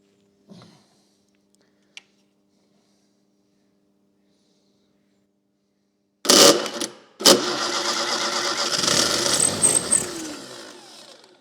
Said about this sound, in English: See if it'll fire up. Put the ignition on.